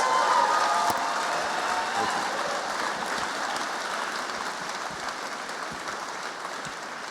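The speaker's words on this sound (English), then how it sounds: "let's give a round of applause to this" An audience claps at a live public conversation event with scientist David Suzuki, a broad, even patter of many hands heard from a little distance, holding steady and slowly tapering off.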